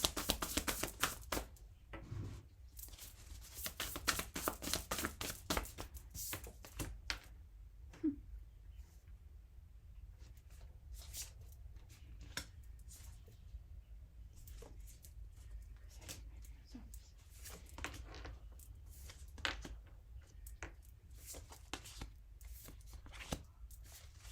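Tarot cards are shuffled by hand, giving crisp papery riffles in dense bursts over the first several seconds, then sparser, softer shuffles and taps that continue at close range.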